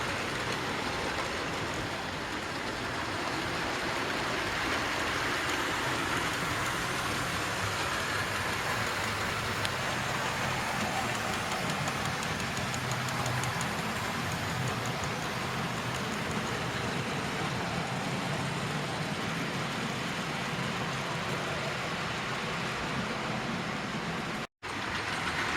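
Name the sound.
model railway Terrier locomotive running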